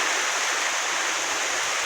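Heavy rain pours down in a village, a loud, steady broadband hiss of downpour with no pauses, close and continuous, with no voices.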